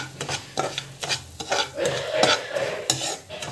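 Semolina (rava) is roasted in a pan while a spoon stirs and scrapes it, giving repeated close scraping and clinking strokes over a soft dry sizzle, with no voices.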